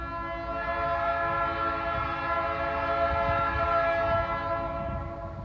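A passing train sounds a long, loud, sustained horn over the rumble of the rails, with no voices heard.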